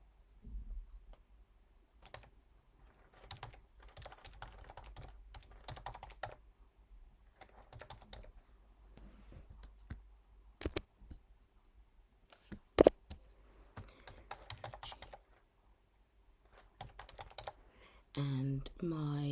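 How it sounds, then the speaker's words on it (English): Someone types an email address on a computer keyboard, producing quiet, uneven clusters of key clicks with a few sharper taps; a voice comes in briefly near the end. "So I'm going to type in my email."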